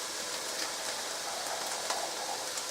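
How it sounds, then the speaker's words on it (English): Boiling water pours steadily into a container of stock powder for vegetable soup, a continuous bright splashing hiss heard alone and close without talking. "I put in 4 teaspoons of stock, and add the boiling water"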